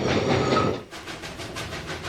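A Santa Fe steam train from 1955 crosses the Arroyo Seco bridge near Pasadena, a loud rolling rumble and hiss that drops off partway, leaving a steady rhythmic clatter of wheels on rails.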